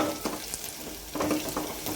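Slit green chillies and onions sauté in a hot tempering for moong dal varan, a close, soft sizzle broken by light scraping stirs.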